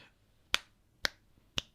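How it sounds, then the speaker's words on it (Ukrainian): Three crisp finger snaps, evenly spaced about half a second apart, ring out sharply and close against near silence during a physics lesson on sound waves. "коли ми ляскаємо пальцями, вони видають коливання з частотою от в такому 20-20 тисяч Гц"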